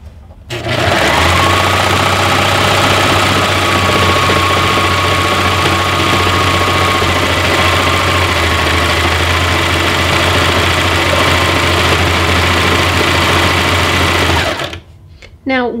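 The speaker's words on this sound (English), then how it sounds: "a serger always works better when you allow that blade to cut off just a little bit of fabric" A serger stitches and trims the edge of a towel in one long, loud, steady mechanical whir, stopping near the end with a brief rattle.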